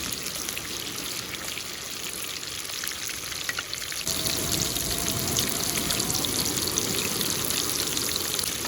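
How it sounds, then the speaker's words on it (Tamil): Small shallots sautéing in hot oil in a pan for a dry fish curry, a continuous crackling sizzle that grows louder and denser partway through as stirring continues, with no talking. "நல்லா வதங்கட்டும்"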